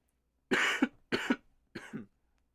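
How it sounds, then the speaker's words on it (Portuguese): A man gives three sharp coughs in a row, each short and dry with brief gaps between them, close to the microphone and not talking. "Por isso que eu tô tossindo, velho."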